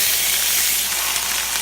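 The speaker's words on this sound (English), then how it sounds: "I'm going to add just a little bit of water for some steam." Water hitting a hot pan to steam a low-carb tortilla, a loud continuous hiss and sizzle, close and steady throughout without pauses.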